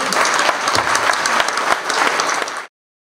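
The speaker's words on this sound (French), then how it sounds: "sous les applaudissements de tout le monde" A crowd applauds at an award ceremony as a minister receives a prize; dense, loud clapping fills the room for under three seconds, then cuts off abruptly.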